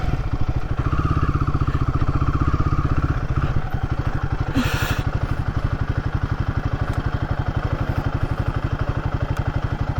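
A Royal Enfield Guerrilla 450 motorcycle rides along a road, its engine giving a steady, rhythmic low thump throughout, close and fairly loud, with a brief higher whoosh partway through; no talking.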